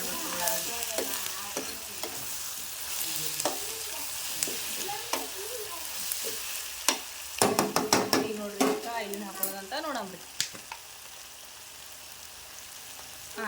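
Onions stirred and frying in a pan for a healthy school-tiffin breakfast, a steady sizzle broken by scraping and clattering of the spoon against the pan, louder in the middle, with no talk.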